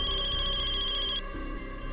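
A telephone ringtone plays, a bright electronic tone pulsing steadily and fairly loud, then cuts off just past halfway through.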